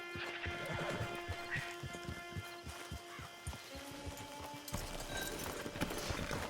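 Horse hooves clip-clop in a steady walking rhythm with a soft whinny in Red Dead Online, set against game music and ambient sounds.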